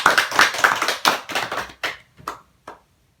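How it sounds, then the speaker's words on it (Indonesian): A small classroom group applauds a student teacher after a microteaching lesson on cell division, with brief close clapping that thins into a few scattered final claps. "Beri aplaus dulu untuk Ustaz Syafitra."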